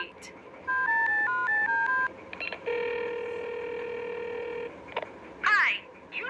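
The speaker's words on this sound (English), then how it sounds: "I'm driving, so please dial his number for me." A kids' learning video game plays a sequence of clear electronic phone dialing beeps in quick succession, then a long steady ringing tone, with a brief voice at the end.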